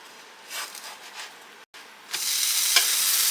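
Texas toast sandwich grilling in a buttered pan, with soft scraping as it is flipped, a brief silence, then a loud, steady sizzle that carries to the end.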